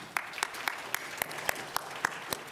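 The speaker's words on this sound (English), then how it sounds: "just give yourself a round of applause for being here" Sparse applause from a conference audience at Stanford Data Science's annual gathering, a handful of distinct claps in an irregular patter, thin and moderately distant.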